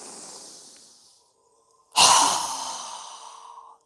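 A forceful breath exhaled through a wide-open mouth during a yoga breathing exercise: a softer breath first, a brief silence, then a loud, sudden exhale that tapers off over about two seconds.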